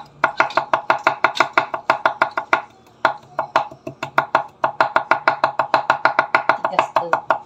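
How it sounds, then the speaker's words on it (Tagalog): Garlic is pounded with a mortar and pestle in a kitchen, heard as rapid, rhythmic close thuds in steady runs with a brief pause partway through. "try natin magdikdik ng bawang."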